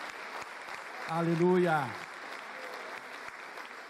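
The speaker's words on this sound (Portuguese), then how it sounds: "Vamos aplaudir a esse Deus vivo e maravilhoso" Congregation applauding during a church service, a steady broadband clapping wash running throughout, with a voice briefly calling out over it in the middle.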